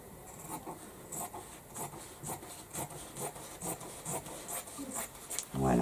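Scissors cut a large rectangle from a leftover piece of cotton fabric, giving a quiet, rhythmic series of close, soft snipping and rustling strokes at a steady pace, ending with a louder thump of handling.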